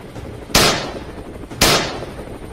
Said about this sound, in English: Once targets were identified, we opened fire in unison.